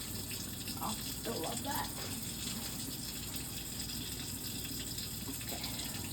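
Hot tap water runs steadily while rinsing a piece of cork for a crested gecko enclosure, a continuous close gushing hiss with a brief spoken voice over it.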